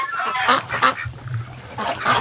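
Ducks kept in a barn over winter give several loud nearby quacks and honks in bursts, with a brief lull in the middle before the calling picks up again.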